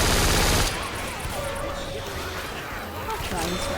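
Rapid rifle fire from a zombie shooter video game crackles in a quick burst at the start, then the action softens into background game noise and effects.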